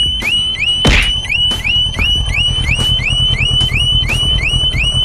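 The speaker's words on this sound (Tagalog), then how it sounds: "May alarm pala to. May alarm." A Harley-Davidson motorcycle's alarm goes off with a loud, repeating electronic chirp-and-sweep pattern, about ten cycles in steady rhythm, with a sharp thump near the first second.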